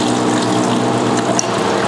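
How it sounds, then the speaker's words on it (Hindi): A bottle washer machine in a small soda bottling plant runs continuously, giving a steady loud mechanical ratcheting and clattering with watery washing underneath and one brief sharp clink near the end. "बोतल वॉशर मशीन है, इससे बोतल धोया जाता है।"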